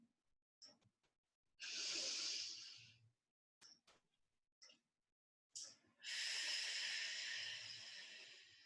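Slow, steady exhales during a breathing exercise in an on-all-fours movement break: two long, close breathy rushes of air, separated by a few short, quiet breath sounds, with no talking.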